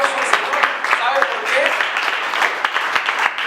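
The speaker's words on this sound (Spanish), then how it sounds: "Den un aplauso al Señor." A church congregation claps in praise to God during a Spanish-language sermon, a dense burst of close applause with a voice speaking over it.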